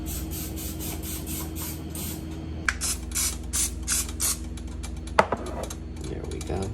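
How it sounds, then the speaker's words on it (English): Several short hissing bursts of cooking spray onto a pan in an uneven rhythm, close by, with a sharp clatter partway through over a low background hum. "let's spray our pan"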